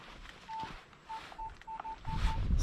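A metal detector sounds repeated short high-pitched beeps signalling a copper coin during countryside detecting in Britain, a series of brief tones over rustling ground and outdoor noise.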